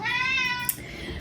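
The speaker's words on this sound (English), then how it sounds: "there's the cat" A house cat lets out a single drawn-out meow that slides slightly downward before cutting off, close and clear, followed by a brief soft click and quiet room background.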